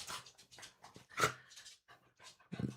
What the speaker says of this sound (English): This dog won't leave me alone